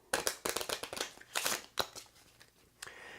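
Board game cards from an adventure deck are shuffled by hand in a quiet room, a quick series of crisp riffling bursts that fade to a few soft taps at the end, with no voices.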